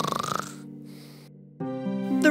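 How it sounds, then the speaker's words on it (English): A sleeping man snores in a fairy-tale setting, a low droning rasp that holds steady, pauses briefly, then returns louder, with a soft breathy burst at the start. "he didn't even hear her while he was asleep and continued to snore"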